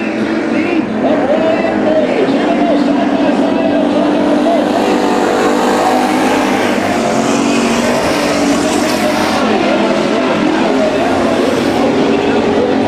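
Race cars roar around the oval at Bakersfield Speedway during a heat race, a dense, sustained engine drone with cars surging past, loud and continuous over a commentator's voice.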